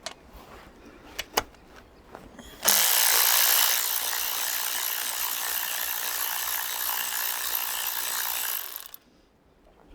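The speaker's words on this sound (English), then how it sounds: "A little retaining bolt out." A ratchet undoing a small retaining bolt on a Sachs Roadster 650 motorcycle during tank removal: a few sharp clicks, then a fast, steady, loud ratcheting whir for about six seconds before stopping abruptly.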